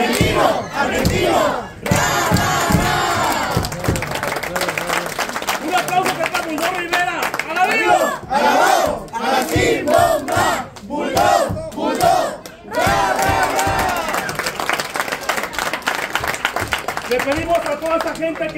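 A packed wrestling arena crowd at Arena La Esperanza roars, chants and claps in waves during a tribute to the wrestler El Argentino, with an announcer's amplified voice shouting over the loud, continuous din.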